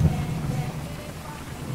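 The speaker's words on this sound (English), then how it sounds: "It's now heaving rain out of the sky." Heavy rain pours down in the Maasai Mara, Africa, with a low, steady rumble of thunder and rain noise filling the short stretch at a constant, fairly quiet level.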